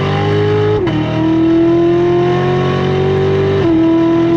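Chevy C7 Corvette Lingenfelter Z06 accelerating hard in second gear from around 3,000 RPM, a loud, steady rising engine roar with a brief dip at a shift-like break before climbing again, heard close and alone.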